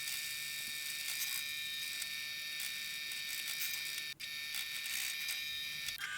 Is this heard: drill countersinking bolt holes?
yes